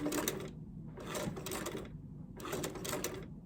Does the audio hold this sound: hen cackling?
no